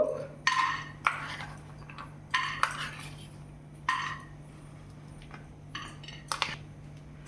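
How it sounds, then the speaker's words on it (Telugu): Peanuts dry roasting in a pan, heard as intermittent scraping and rattling bursts from stirring against the pan, several sharp clusters spaced a second or so apart over a low steady hum. "ఇప్పుడు మనము పల్లీలు ఇవన్నీ డ్రై రోస్ట్ చేసుకుందాము"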